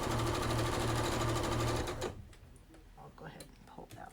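A sewing machine stitches fabric for a quilt block with a fast, steady mechanical whir for about two seconds, then stops, leaving quieter handling clicks and faint background sounds.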